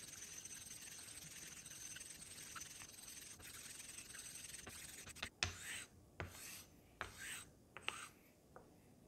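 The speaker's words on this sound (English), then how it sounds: "take your time, no pressure, and raise a very fine slurry" An Asano nagura stone is rubbed on a hard, very fine Koma whetstone of 10 to 12k grit to raise slurry while honing a Dovo 41 Inox 5/8 straight razor. A soft steady scraping runs throughout, then gives way to a few distinct sliding strokes near the end.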